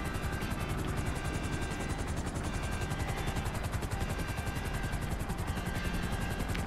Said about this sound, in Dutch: Er stort hier een vliegtuig neer.